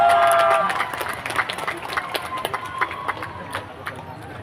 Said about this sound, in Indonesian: Tepuk tangan yang meriah untuk pencak silat Putra Siliwangi Pusat.